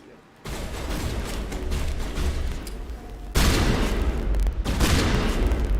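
Shotgun blasts and heavy gunfire in the Mass Effect video game, a dense loud barrage that runs steadily, with a fresh surge of blasts partway through and little pause between shots.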